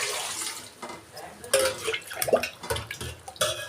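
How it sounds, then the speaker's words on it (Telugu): Tap water running into a cooking pot as it is filled for white sauce pasta, a broad splashing rush with a few clinks of the vessel, close and fairly loud. "గిన్నె పెట్టుకొని నీళ్లు పోసుకుంటున్నానండి"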